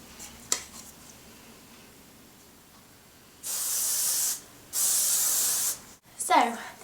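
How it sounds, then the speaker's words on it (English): Hairspray sprayed onto straightened hair: two loud, close aerosol hisses about a second each, separated by a short gap, with a few faint handling sounds around them. "So I'm just going to set that with a bit of hairspray."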